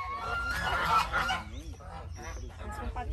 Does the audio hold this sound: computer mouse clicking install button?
no